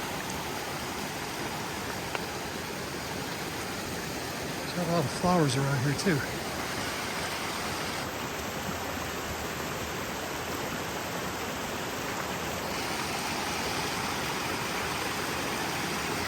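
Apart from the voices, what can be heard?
flowing mountain stream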